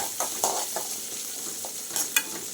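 Sliced onion, red and green chilies and curry leaves sputter and sizzle in hot oil while being stirred, a steady close hiss with sharp crackling pops and occasional scrapes.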